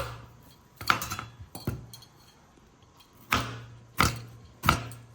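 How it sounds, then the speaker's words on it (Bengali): An onion is chopped by hand with a knife on a board, a handful of sharp, distinct cuts in irregular bursts, close and fairly quiet with pauses between strokes. "তো বন্ধুরা একটু পেঁয়াজ কেটে নিচ্ছি"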